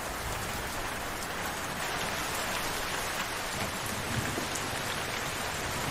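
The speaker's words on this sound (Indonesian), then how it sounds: "Misalnya saya akan memasukkan suara hujan plus geledek kecil" Steady rain pours down in a dense, even hiss with only a faint low rumble of light thunder beneath it, with no voices present.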